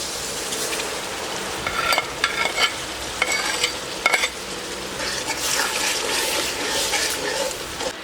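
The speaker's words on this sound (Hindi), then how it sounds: "अभी इन मसालों को अच्छी तरह भून लेंगे।" Spices and onion masala frying for beef nalli biryani, a steady sizzle broken by repeated scraping and clattering stirring strokes, close and fairly loud, with no talking.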